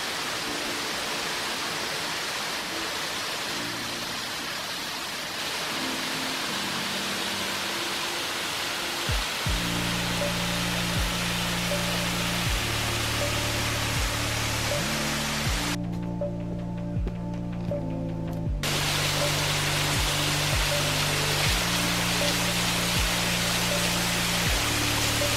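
Waterfall along the Warrie Circuit rainforest trail in Queensland, a dense steady rush of falling water roaring throughout, with sustained low musical tones running over it.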